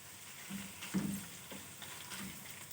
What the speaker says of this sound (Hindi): चिकन को भी ऑयल में अच्छी तरह से भून लें